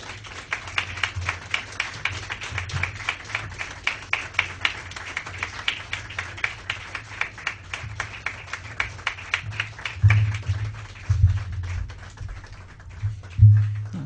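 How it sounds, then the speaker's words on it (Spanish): A church congregation claps at a steady, rhythmic pace, the individual hand claps distinct and fairly close, with a few heavier thumps toward the end. "Denle un aplauso al Señor"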